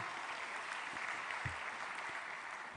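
At a mass loan-signing and launch event, the audience breaks into steady, moderately distant applause. It is a continuous patter of many hands, with a couple of low thumps and no speech over it.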